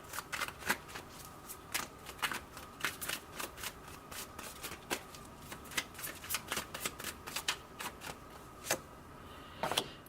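Tarot cards riffled and shuffled in a steady run of crisp papery flutters and soft slaps, near and fairly quiet, with no talking.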